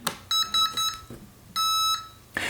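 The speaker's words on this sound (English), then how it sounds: "turn on the transmitter and wait for it to beep" A series of electronic beeps from an Eachine E55 drone transmitter: several short tones in quick succession, then one longer sustained beep, clear and fairly close, with no talking.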